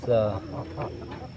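A hen gives a few soft, close clucks in a short burst, loudest at the start, then trailing off into quieter murmurs.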